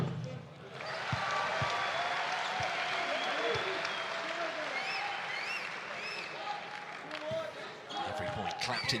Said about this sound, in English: Clapped enthusiastically by the Iceland band of support